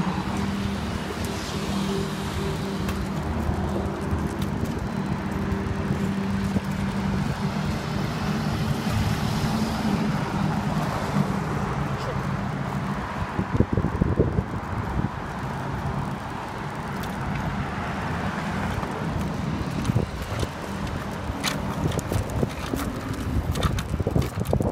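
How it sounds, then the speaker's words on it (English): Outdoor ride on a 25 inch scooter along a road, with steady wind buffeting the microphone and rolling rumble throughout, plus a brief louder burst of noise partway through. "So this is the scooter that I'm running on."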